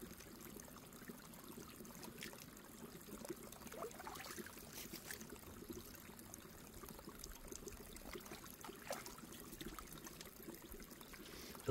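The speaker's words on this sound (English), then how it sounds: "this pool here is draining" Water trickles and drains steadily from a pool beside a Pennsylvania oil road near a culvert, a faint, continuous low wash with no voices throughout.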